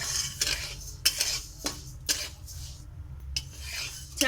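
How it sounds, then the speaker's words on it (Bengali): Raw rice being dry-roasted in a pan for chaler naru, a spoon scraping and stirring the grains in repeated short rasping strokes with occasional metallic clinks, close and fairly quiet, no talking. "চালটাকে আমি ভেজে নেব।"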